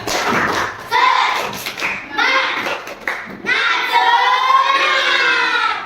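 Children in a primary school classroom perform a rhythmic chanted spirit clap, voices chanting together while hands clap and thump in patterned bursts, loud and close.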